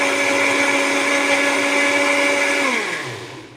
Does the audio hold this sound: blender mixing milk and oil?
yes